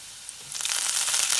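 Garlic and cloves sautéing in a hot pan, a bright crackling sizzle that swells in after a soft hiss and keeps going close and steady.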